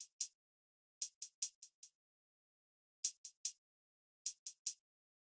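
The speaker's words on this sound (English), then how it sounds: "This one is the data hi-hat from the kit." Closed hi-hat from a drum kit alone, sharp bright ticks in short bursts of two to five hits with uneven spacing and varying loudness, close and dry.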